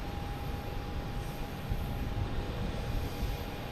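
A Southwest airliner takes off at Boston Logan Airport, heard as a steady, broad jet roar with a faint high tone, sustained and distant, with no talking.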